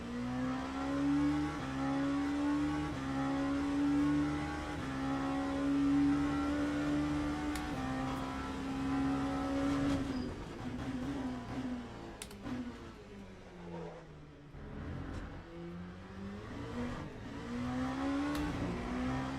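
LMP2 and LMP3 prototype race car engines at Sebring in the Le Mans Ultimate sim game, with a close engine note that holds high, drops through gear changes and deceleration, then climbs again as it revs back up.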